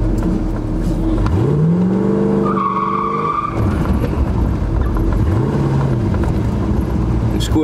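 A 1968 Plymouth convertible accelerates in two bursts, its engine note sweeping up loudly as the tires squeal on the pavement, close by with steady background noise.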